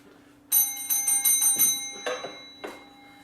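A bell on a shop clerk's counter is struck repeatedly, giving a quick series of bright metallic rings that fade away, then a few last separate dings.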